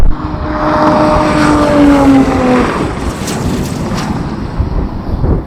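Nissan Z sports car accelerating in a drag race, a loud engine note climbing steadily in pitch for a few seconds before easing off, with road and wind roar.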